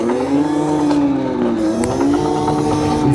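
A MilePop 1 3000W electric motorbike accelerating in third gear, a steady whining motor tone that climbs and shifts pitch, loud and close throughout with road noise underneath.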